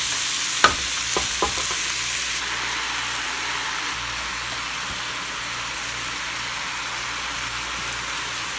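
Rice and leeks being stir-fried in a pan for vegan fried rice: a few quick scraping clacks up front, then a loud, steady sizzle carrying on by itself.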